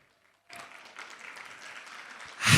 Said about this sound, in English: I think it deserves a bigger round of applause.